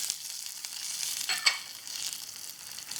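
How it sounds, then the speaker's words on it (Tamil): Coriander seeds, dried red chillies, garlic and onion roasting in a pan on a low flame for Nellai-style fish curry, a soft steady sizzle with a brief louder crackle midway, no talking. "இப்போ இது எல்லாத்தையும் நல்லா வறுத்து விட்டுடலாம்."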